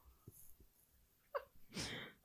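A single quiet sneeze breaks out after a few soft breaths and clicks, fairly close but at low volume.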